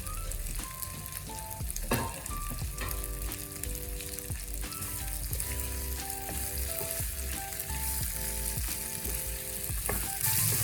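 Brinjal curry sautés with chopped tomato and green chilli in a sizzling pan, a continuous bright fry under a soft melodic background tune, with occasional stirring knocks.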